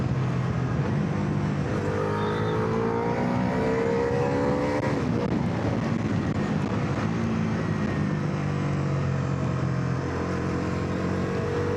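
A Bajaj Dominar 400 motorcycle engine revving and accelerating under load, the pitch climbing and dropping through gear changes, loud and continuous with steady wind rush.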